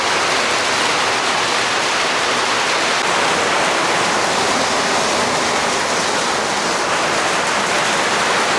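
Dense, roaring rain pours down without pause, a loud, even hiss filling everything close around.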